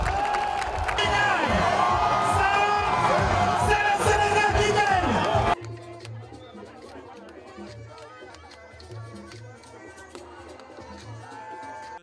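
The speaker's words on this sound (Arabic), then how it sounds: "جحافل الجماهير سارعت إلى استقبال الأبطال عقب الفوز بلقب بطولة كأس الأمم الإفريقية" A large crowd of Senegalese fans cheers and whoops in the streets of Dakar to welcome the national football team home after an Africa Cup of Nations title, loud and dense at first, then fading to softer distant chatter.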